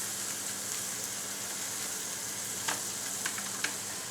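Ground beef cooks in a pan with taco seasoning, giving a steady, soft sizzle and a few faint clicks and stirring scrapes toward the end, with no voices.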